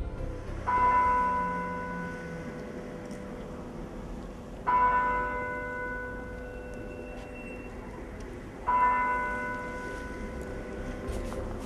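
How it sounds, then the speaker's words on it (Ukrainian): A cathedral bell tolls three times at slow, even intervals, each strike ringing out and fading over a steady low background. "сьогодні лунає звук, немовби дзвін розбиває повітря, як і 100 років тому"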